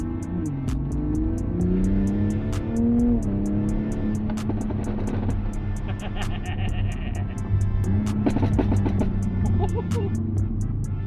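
Tuned Toyota GR Supra running E50 flex fuel accelerates hard, its engine note climbing through the revs with shifts between gears, heard as a loud continuous drone from inside the car.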